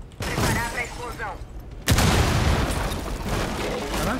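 A loud booming explosion in Rainbow Six Siege erupts suddenly partway through and rumbles on, following a stretch of voices and game noise.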